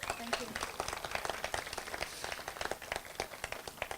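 Applause at an outdoor garden inauguration with Haifa Symphony Orchestra musicians on stage: a crowd claps steadily and densely, with a continuous patter of many hands at moderate distance.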